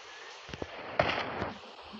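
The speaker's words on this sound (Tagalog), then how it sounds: "Saan ang galing yung putok?" Several gunshots ring out in the PUBG Mobile battle royale game: sharp, distant cracks spaced about half a second apart over a steady hiss of game ambience.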